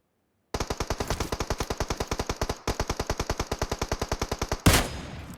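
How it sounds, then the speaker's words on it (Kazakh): Rapid automatic gunfire in PUBG Mobile, two long bursts of evenly spaced loud close shots separated by a brief pause, ending in a heavier blast, with no talk. "Ана жақта ботақандар атып отыр."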